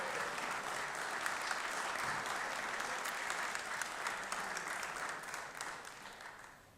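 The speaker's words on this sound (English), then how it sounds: "let's give her a round of applause" Steady applause rings through the Georgia Senate chamber, a dense wash of clapping that stays even before tapering off near the close.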